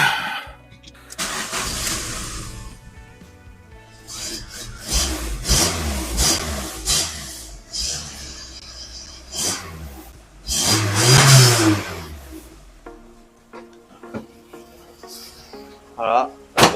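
VW Golf 3 converted to run on E85 ethanol, engine cranking and catching quickly, then revving in uneven bursts, loud and close, with a voice talking over parts of it.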